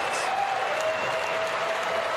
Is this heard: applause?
yes